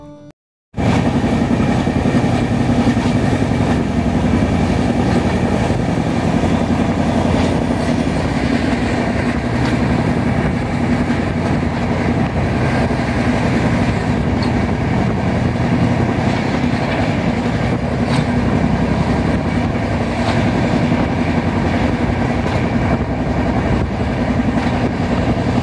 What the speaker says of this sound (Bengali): ট্রেন ছুটে চলেছে তার দুর্দম গতিতে